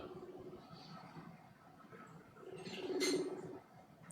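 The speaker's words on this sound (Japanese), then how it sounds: "コール音が今鳴っております" A telephone ringback tone played over a speakerphone at a talk show in Japan: two faint, buzzing low tone bursts, one short at the start and a longer one later, over quiet room background.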